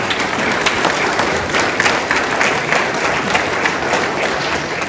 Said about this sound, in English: Let's give Sadie a round of applause